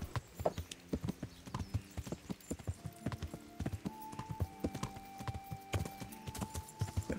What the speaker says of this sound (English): Give the horse a bit of a run.